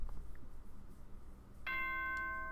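Night announcement chime from the Danganronpa: Trigger Happy Havoc video game, a bright sustained bell-like tone that enters abruptly after a quiet stretch and rings steadily to the end.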